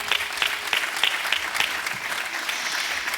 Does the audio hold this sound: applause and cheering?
yes